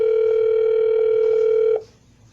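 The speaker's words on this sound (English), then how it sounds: "This is the one-line dialer." A steady, loud dial tone from a one-line phone dialer holds for almost two seconds, then cuts off abruptly into quiet room tone. No one speaks.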